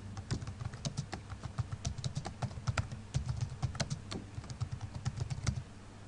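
Typing a project name on a computer keyboard, a steady run of quick, close key clicks in irregular rhythm, continuing for several seconds with no talk.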